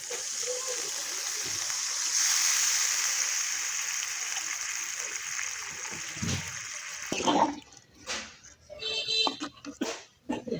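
Curry broth poured into a pot of stingray curry with potatoes, a loud continuous gushing pour that ends after several seconds, followed by splashes and clatter of the pot.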